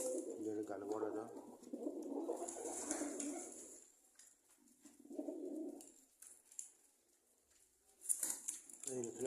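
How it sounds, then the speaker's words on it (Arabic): Pigeons coo at their nest in a cage, a mated pair with a dark male: several low, rolling coos come in repeated bursts, close by, while a person speaks over and between them. "الحمامة دي جات اهي، ده الدكر بتاعها اللي جنبها"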